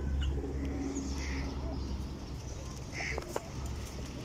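Desi pigeons coo in a low, steady murmur over a constant background rumble, with a few faint bird calls and a brief knock near the end.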